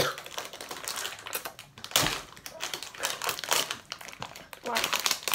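A packet of Jaffa cakes, Sainsbury's Basics, is torn open up close, with busy crinkling and sharp plastic rips in irregular bursts while voices talk over it.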